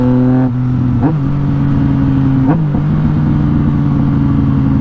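A Buell XB motorcycle engine throbs loudly and close, with two sharp throttle blips that rise and settle back into a deep, steady rumble.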